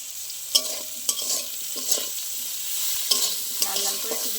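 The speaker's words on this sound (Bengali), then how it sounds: "লাল লাল করে একটু ভেজে নেব।" Boiled bitter gourd frying in a pan with salt and turmeric, giving a soft steady sizzle broken by several sharp scraping stirs of a spatula, close and moderately quiet, with no talk.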